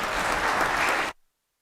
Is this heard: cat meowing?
no